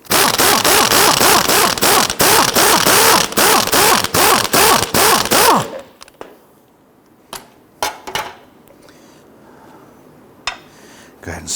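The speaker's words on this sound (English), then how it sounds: "We're now going to go ahead and loosen that nut." A rapid, loud ratcheting burst of a power tool loosens the strut nut on a Dodge Charger for several seconds, followed by a few scattered metallic clinks and knocks in a quieter space.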